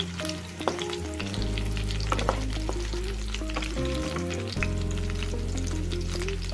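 Fish fries in a pan with a steady, busy sizzle and crackle, close and fairly loud, accompanied by a constant low hum and occasional faint clinks.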